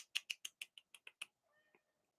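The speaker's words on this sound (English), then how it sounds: "Hi, kitty. She's back." A pet cat indoors gives a quick run of about eight short, close, bright meows or chirps in a steady rhythm, followed by a soft fainter murmur and one last brief chirp.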